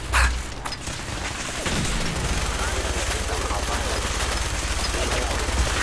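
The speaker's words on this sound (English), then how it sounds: "Minigun!" Minigun fire in Fallout 4, a dense continuous roar of rapid shots that runs almost the whole time after a short opening burst, loud and steady, with a voice over the top.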